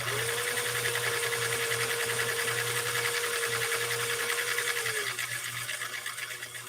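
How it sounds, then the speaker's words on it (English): A vintage Husqvarna sewing machine stitching on cam C, a fast even whirring chatter with a steady motor tone that drops off near the end as the machine slows. "he's going to be able to do a mini class on operating a vintage Husqvarna sewing machine"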